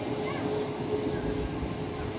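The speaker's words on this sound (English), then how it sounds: "Southwest 2019 heading to Nashville on a 737 MAX 8. Also taking off here at runway 8." A Boeing 737 MAX 8 airliner takes off from the runway, a steady broad jet roar heard from a distance, fairly faint and constant with a low rumble underneath.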